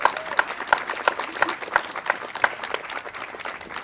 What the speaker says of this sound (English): A round of applause for Lucy, ladies and gentlemen.